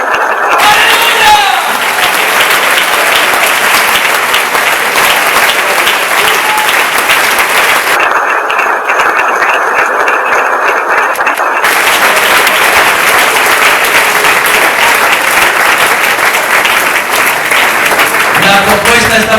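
A church congregation applauding loudly and steadily, a dense wash of many hands clapping without pause for the whole stretch, close and full.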